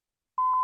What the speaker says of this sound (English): let's beep the cough out